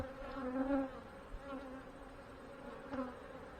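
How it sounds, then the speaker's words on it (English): Honey bees buzz steadily during a hive inspection, a low, droning hum with a few louder swells as bees pass close. "Lots of new bees."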